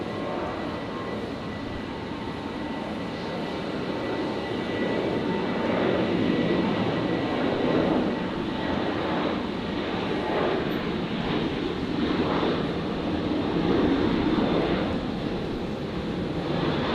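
A Rex regional airliner taking off on runway 01 right at Brisbane International Airport, a steady broad engine roar building gently in loudness over seventeen seconds, heard from a distance with no talk.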